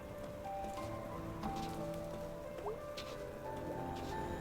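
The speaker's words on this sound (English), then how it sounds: "It's just rain." Steady rain falls in the video game Night In The Woods, a soft continuous patter with faint drips and rustles, low and even throughout with no talk over it.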